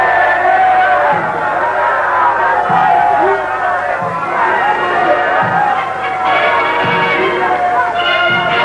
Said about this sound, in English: Huge crowds jostled for choice vantage points all along the route in the hope of seeing the Emperor.